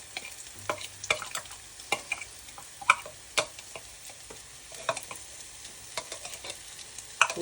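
Chillies, garlic and ginger fry in a pan with a busy crackling sizzle, sharp irregular pops and spits over a steady hiss, close up with no voices.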